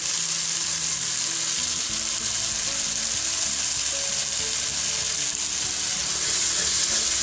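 Chicken lasagna sauce with barbecue sauce fries in a pan, giving a steady, dense sizzle with faint stirring underneath, close and continuous without speech.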